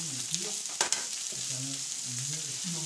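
Sausages brushed with sauce sizzle and crackle on a hot plancha griddle at a barbecue. The frying is steady and close, with a few sharp scraping stirs and no talk over it.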